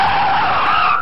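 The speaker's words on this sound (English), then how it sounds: "imagine that you are in a supercar traveling at 100 miles per hour and suddenly you hit the brakes" A supercar braking hard from high speed, its tires letting out one loud, continuous skidding screech that holds steady for about a second before cutting off.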